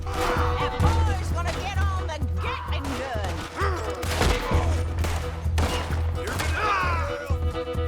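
Rapid bursts of gunfire and crashing impacts in the video game Red Dead Redemption 2 fill the clip, with people talking over the shooting throughout.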